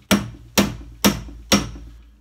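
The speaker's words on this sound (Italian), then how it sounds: "utilizzare un martello in plastica o in gomma e colpirlo" A plastic or rubber mallet strikes the chuck of a 2019 LIDL Parkside PTBM 500 E5 drill press. Four sharp, evenly spaced knocks about half a second apart, each with a short ringing decay, close and clear.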